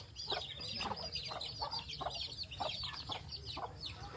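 Chickens cluck repeatedly at a farm cage, a busy run of short overlapping clucks close by over steady background noise, with no talk.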